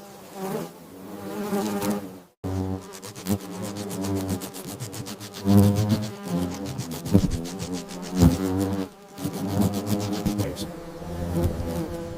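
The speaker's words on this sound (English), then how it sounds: "The wasps respond instantly, swarming." Loud, dense buzzing of many paper wasps close by, swarming to defend their nest against a huntsman spider, swelling and fading in waves, with a couple of brief silent gaps.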